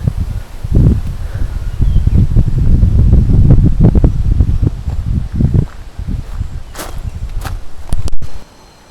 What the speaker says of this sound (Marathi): सध्या वारा असल्यामुळे मस्त वाटते बघा